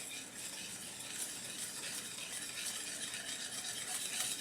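Vanilla cake batter being mixed in a bowl for a checkerboard cake, a steady soft scraping and stirring hiss that continues without a break and without talk.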